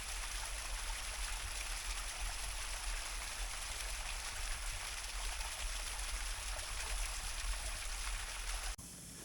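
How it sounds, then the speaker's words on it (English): Water runs down hydro pipes on a Scottish Highland hillside, giving a steady, hissing rush like a fast stream that holds level throughout, with no voices. "They just go on all the way up there and run down, obviously, with all the water, the hydro."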